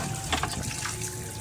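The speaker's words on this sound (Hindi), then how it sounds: "तो माशाल्लाह आपका यहाँ पे हैंडपम्प लग चुका है।" Water from a newly installed hand pump outside a home, a steady gushing and trickling stream that is close, moderately loud and continuous, with no voices.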